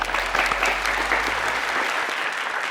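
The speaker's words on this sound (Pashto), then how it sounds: "ویاړې چکچکې دوستانو" A studio audience on a Pashto TV quiz show claps loudly in a dense, sustained burst of applause that carries on without a break.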